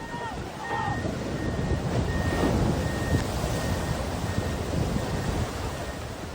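Strong, rough sea surf crashes continuously during a rescue of salvage workers, heavy with wind buffeting the microphone, with faint beeping from machinery cutting through now and then.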